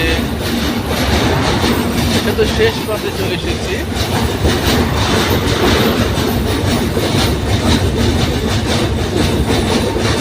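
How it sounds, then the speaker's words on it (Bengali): A train rumbles across the Jamuna bridge with continuous loud clatter and wheel noise, and someone speaks over it. "এই দেখেন ট্রেন চলছে"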